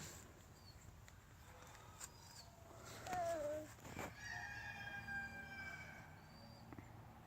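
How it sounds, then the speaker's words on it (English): A rooster crows once, faint and distant, a rising then falling call in a quiet outdoor setting with light background noise, with a thin high tone drifting afterward. "Was that a rooster?"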